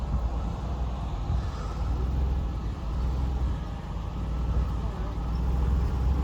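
A Ford Windstar van with a broken rear axle creeping forward slowly at night, a low rumbling engine and road noise that holds steady and moderately loud throughout.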